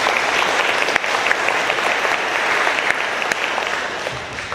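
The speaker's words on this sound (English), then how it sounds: "So give them a round of applause." Steady applause from members at a Rotary club meeting welcoming prospective members, a close, dense patter of hand claps that holds at a constant level throughout.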